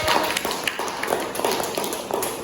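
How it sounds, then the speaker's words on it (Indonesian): Steady clapping from a classroom audience applauding group 3 after their biogas presentation. Dense, continuous patter with no voices over it. "Beri tepuk tangan untuk kelompok 3."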